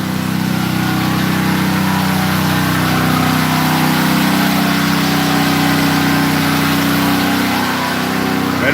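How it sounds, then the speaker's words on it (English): A portable generator runs loud and close after an ice storm, a steady unbroken engine drone with a constant hum and no break in level. "I went and got a generator."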